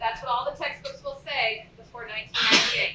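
A single loud, sudden sneeze bursts out from someone in the audience during a science lecture, coming right after a man's speech.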